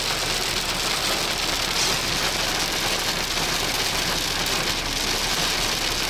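Snow, or wet precipitation like it, pelts steadily on parked vehicles during a sideways-blowing storm while wheeling in Wyoming, a dense constant hiss with a faint engine rumble underneath and no talking.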